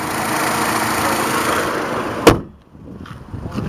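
A 2005 Chevrolet Malibu's 2.2 liter four-cylinder idles smoothly at close range, a steady hum that ends in a sharp thunk, likely the hood closing, after which only faint background remains.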